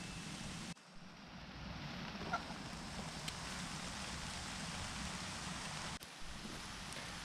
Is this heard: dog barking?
no